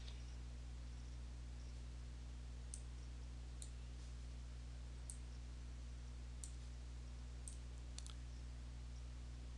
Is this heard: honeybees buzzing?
no